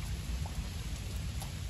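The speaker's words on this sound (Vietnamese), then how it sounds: "Mưa nữa." Steady rain falls in a rural crab-catching setting during a storm day, a continuous close hiss with low rumbling underneath that suggests distant thunder, with no voices.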